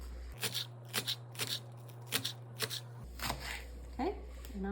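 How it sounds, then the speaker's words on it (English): A knife chops green onions on a cutting board in a home kitchen, about a dozen crisp, close knocks in an uneven rhythm, with a low electrical hum underneath and no talk over the cuts. "Now we're going to cut up some green onions."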